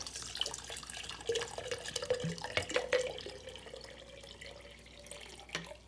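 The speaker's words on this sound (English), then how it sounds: "And then the next thing I do is I pour water in the jar." Water pours into a glass jar holding seeds for sprouting, with a soft continuous trickle and light splashing that runs for several seconds, fairly quiet, with no talking.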